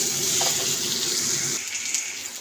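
About half a spoon of ginger-garlic paste sizzles as it fries with already-fried potatoes and pointed gourd in a pan, a loud, dense, steady hiss that thins and softens toward the end.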